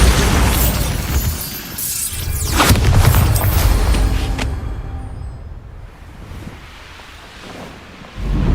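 A Bombarda blasting spell in Hogwarts Legacy, a loud booming explosion with a shattering crack and a roaring, windy debris tail that slowly dies away, then a fresh rumble rising at the end.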